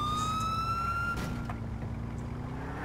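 An ambulance siren in the video game GTA IV wails steadily and loudly across the whole stretch, a sustained rising-and-falling tone over a low engine rumble, with no talking.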